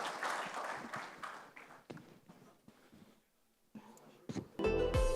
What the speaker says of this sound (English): Can we have a huge round of applause for all the panelists for giving us such a wonderful discussion?